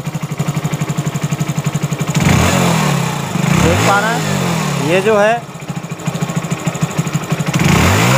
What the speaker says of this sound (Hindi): बाइक को हल्का रेस करें,